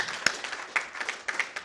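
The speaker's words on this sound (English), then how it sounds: "Give them a big round of applause again." An audience at a development conference gives a brief round of applause, a thin scattering of sharp claps at moderate distance.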